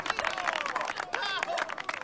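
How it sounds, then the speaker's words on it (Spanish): Group applause for the person who cooked the barbecue at a gathering, brisk crowd clapping mixed with cheerful voices and chatter, fairly close and busy throughout. "Un aplauso para el chino"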